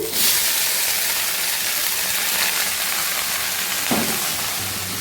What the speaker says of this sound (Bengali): এবার ভাজবো হচ্ছে বরবটি আলু ভাজা